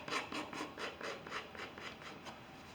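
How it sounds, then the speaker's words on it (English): A palette knife scrapes excess oil paint off a palette in a steady series of about a dozen short, close rasping strokes with an even rhythm and no voices. "Just scrape the paint off."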